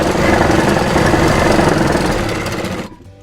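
A sewing machine stitching a kurti collar runs in a fast, steady mechanical whir with rapid needle chatter, loud and close, then stops abruptly near the end; no talk.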